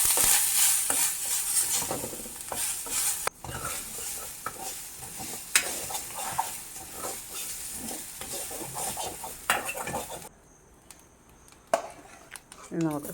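Grated coconut and curry leaves sauté in a pan for Onam koottukari, giving a steady loud hiss with repeated metal clinks and scrapes of stirring, then a short quieter stretch near the end.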